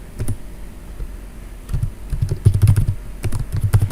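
Keys clatter on a computer keyboard during app coding, typed in quick irregular bursts of crisp clicks that pick up and grow denser toward the end, close and fairly loud with no talking.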